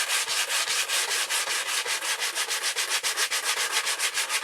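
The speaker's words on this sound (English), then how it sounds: "take a piece of sandpaper and go like this" Sandpaper rubbed by hand along the square-bound paper spine of a magazine, a close, loud, rhythmic scratching of quick repeated strokes, about five per second, with no voices.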